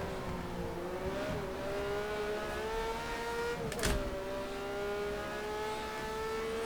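Matra MS11 V12 race car in the rFactor 2 racing game at historic Monza, a steady high-pitched engine howl rising slowly while driving past another car, with a brief sharp burst partway through.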